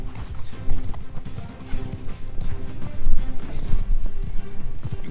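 Horse hooves clip-clop in a busy galloping rhythm during a Mount & Blade II: Bannerlord battle, dense and continuous amid heavy low rumble and clashing game noise.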